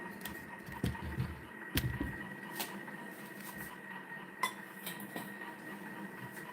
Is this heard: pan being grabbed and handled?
yes